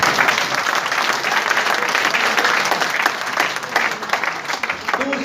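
An audience at an RCM business seminar in Panipat claps continuously, a loud, dense patter of many hands close by that carries through the whole stretch, with a faint voice briefly near the end.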